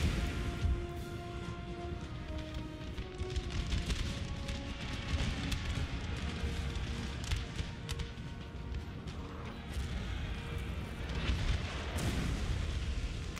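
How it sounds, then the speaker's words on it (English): Distant cannon artillery booms from a Napoleonic battle in Napoleon: Total War, rumbling under a dense battlefield din with steady musket crackle and no clear speech. "I think our cannons have been doing a lot better than their cannon."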